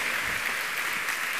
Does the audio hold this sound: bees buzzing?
no